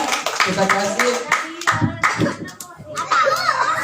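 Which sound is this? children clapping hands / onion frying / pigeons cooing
children clapping hands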